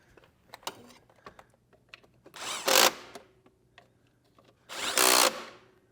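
A handheld power tool tightens bolts during an assembly job, giving two loud whirring bursts of about half a second each, separated by quieter clicks and handling noises, with no talk.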